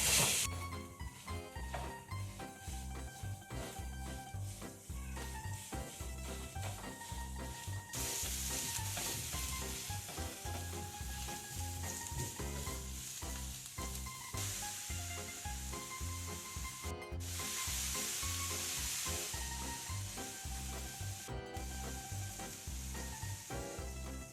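Italian sausage sizzles and browns in a pan while it is broken up and stirred, a steady loud frying hiss with scraping stir strokes throughout and no talk.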